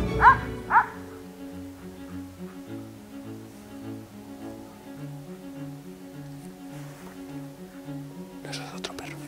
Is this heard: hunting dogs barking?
yes